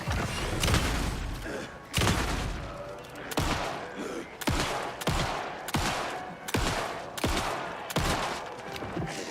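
Gunfire in the video game Alan Wake 2 rings out as about nine loud, evenly spaced shots, each a sharp blast with a booming tail.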